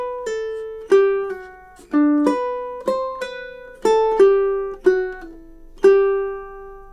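Ukulele playing measures 5 and 6 of the Nutcracker March: about nine clean plucked notes in a steady marching rhythm, each ringing briefly before the next. Bright and close with no talking.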